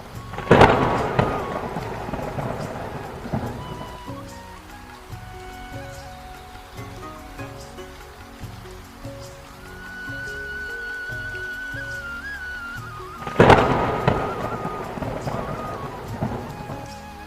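Rain falls steadily with two loud thunderclaps, one at the start and one near the end, rolling out over the downpour in a rural farming village.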